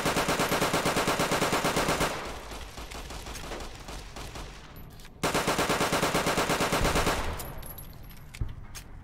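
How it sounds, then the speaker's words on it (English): Uzi in Fallout New Vegas firing in rapid full-auto bursts, loud sharp repeating cracks in two long strings separated by a brief pause, with no talk over them. "Uzi. Wow, this gun is way louder than the other guns."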